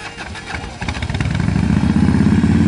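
A black-and-gray two-tone Harley-Davidson with full-size driving lights fires up and settles into a loud, lumpy, close idle, its uneven V-twin thump steady and alone.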